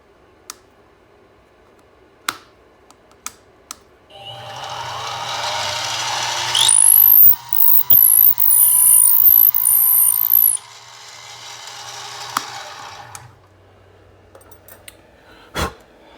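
A hand reamer turns in the pin holes of a knife handle, giving a close, scraping, grinding whir that runs for about six seconds, with a few sharp clicks and taps before and after.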